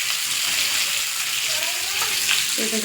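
Fish frying in hot oil in a home kitchen gives a steady, close sizzle and hiss throughout, with a brief faint voice near the end.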